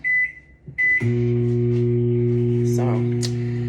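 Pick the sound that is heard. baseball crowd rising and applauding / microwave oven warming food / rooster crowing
microwave oven warming food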